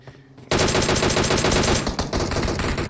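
A DP machine gun with a 4x scope firing in a video game scrim, a sudden loud burst that becomes sustained rapid automatic fire, with a brief break near the end before the shots continue.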